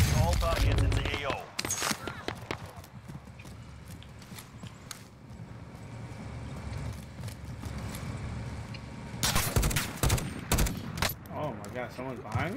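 Sniper rifle fire and other gunfire in Call of Duty: Warzone ring out in sharp bursts at the start and again near the end, over a steady game ambience with a voice talking throughout.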